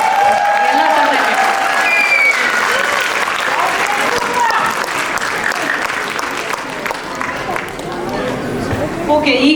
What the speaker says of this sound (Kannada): ಬರ್ಲಿ ಮತ್ತೊಮ್ಮೆ ಜೋರಾದ ಚಪ್ಪಾಳೆ